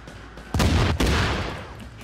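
Gunfire in the video game The Division, including sniper shots: two loud, close reports about half a second apart, the second rolling into a long fading tail.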